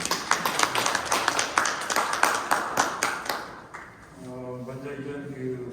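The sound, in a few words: audience applause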